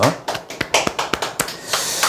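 A small group claps in brief, uneven bursts of sharp separate hand claps at a motivational sales-team session, close and fairly loud, with no other sound between the claps.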